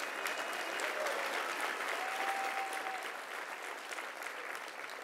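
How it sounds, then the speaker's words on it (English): Applause from an audience at a transgender-rights regulation announcement by New York's governor, a dense steady wash of clapping sustained throughout, with faint crowd murmur mixed in. "Let's give them a round of applause."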